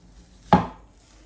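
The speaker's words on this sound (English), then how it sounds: "So it is chopping, and it's chopping cleanly." A knife chops once through a frozen tuna steak, a single sharp, close thunk on the cutting board that dies away quickly in a quiet room.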